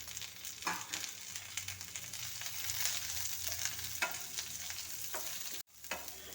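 Carrots and onions being stirred in a frying pan, a soft continuous sizzle broken by scraping stirs at irregular intervals, close and fairly quiet, with one brief drop-out near the end.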